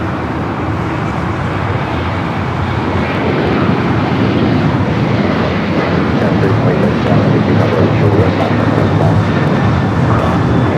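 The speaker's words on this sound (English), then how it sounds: "Hawaiian flight coming up from Honolulu, flight 810" Hawaiian Airlines flight 810 from Honolulu taxis at LAX, its steady engine roar loud and continuous throughout, with broad rumbling noise and faint traffic-like wash behind it.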